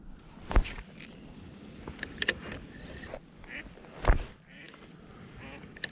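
A pair of ducks quack as they flee across the water near an angler fishing from a boat. The calls come in a few scattered bursts at moderate distance over a steady watery background, with no talk.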